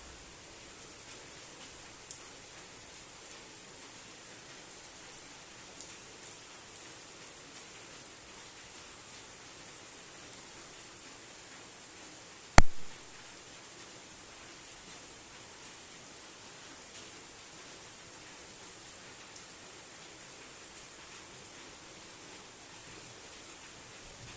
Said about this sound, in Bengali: কখন থামবে বৃষ্টি কখন থামবে বৃষ্টি থামছেই না